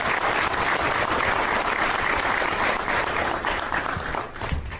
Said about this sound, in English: one more round of applause for our newest Hall of Famer, Ms. Kelly McWilliams.